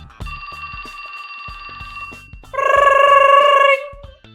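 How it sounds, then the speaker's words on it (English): A cell phone in the video game 428: Shibuya Scramble rings with a steady electronic tone, then switches to a brighter, louder melodic trill that holds for about a second before cutting off, with soft game clicks beneath. "That is your cell ringtone?"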